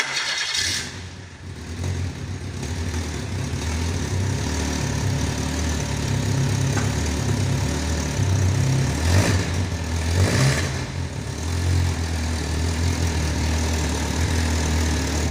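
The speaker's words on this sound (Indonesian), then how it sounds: "marilah kita hidupkan dulu mesin ini, apakah ada gangguan" A car engine starts and settles into a steady idle during an engine management system check in a workshop, with a continuous low hum running the whole time and no talking.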